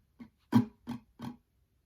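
Four guitar strums in a strumming pattern, the second hit noticeably harder than the rest, ring out cleanly and close with nothing else around them.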